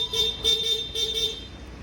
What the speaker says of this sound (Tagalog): Loud horn, stock horn